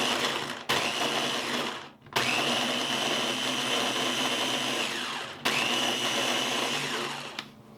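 A food processor pulses butter for cannoli dough in bursts of steady whirring motor noise, with three short breaks of near silence between the loud runs.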